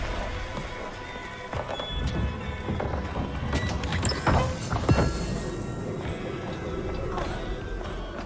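Horse galloping in the video game Assassin's Creed Valhalla, rapid hoofbeats with clattering impacts and mechanical noise over a busy game soundscape, fairly close and steady.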